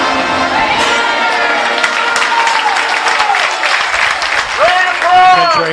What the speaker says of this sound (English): Good crowd forming, as you might imagine.